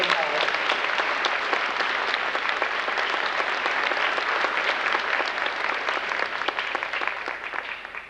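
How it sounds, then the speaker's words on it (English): A steady round of audience applause at a 1996 middle school graduation, dense clapping from a large crowd that holds evenly and trails off at the end. "Let's give them one round of applause."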